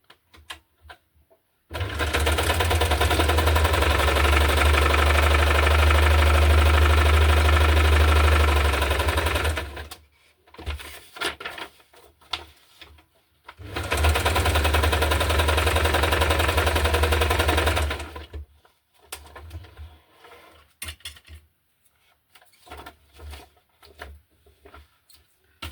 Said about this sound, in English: I will use a straight stitch to sew over here.